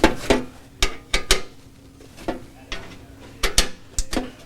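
Metallic clinks and taps from an 8mm T-handle working three 8mm bolts out of an Enduro Engineering skid plate on a KTM 790 Adventure, a series of sharp, close, separate knocks with quiet gaps between them.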